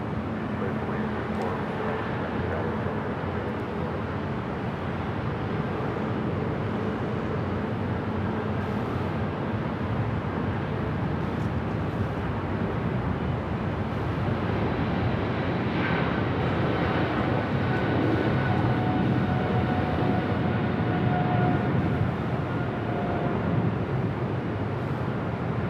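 A heavy airliner lands at Los Angeles LAX, its broad steady engine roar holding through the whole stretch with a faint whine rising near the end, under intermittent radio chatter.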